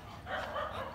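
A single short bark from a dog being teased beside a house, fairly close and moderately loud over a faint outdoor background, with no talking.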